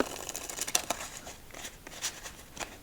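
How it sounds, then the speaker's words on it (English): A deck of playing cards is shuffled up close in a quiet room, giving soft irregular riffles and crisp papery flicks in several short bursts. "let's give this deck, I say, 3 more shuffles to fully randomize it up"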